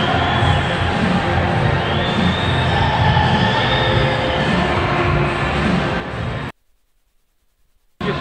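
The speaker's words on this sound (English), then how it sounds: "the crowd respond accordingly" A dense, roaring crowd at the Six Day Amsterdam track cycling race, loud and sustained like a cheering indoor velodrome, cutting briefly to silence near the end.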